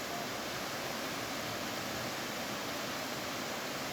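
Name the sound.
mountain stream water flowing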